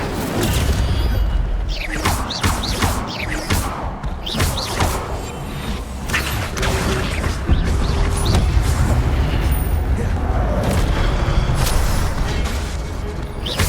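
Fire spell casting in the video game Hogwarts Legacy: a dense, continuous stream of whooshing bursts, thuds and booming impacts layered over busy combat effects, loud throughout with no pauses.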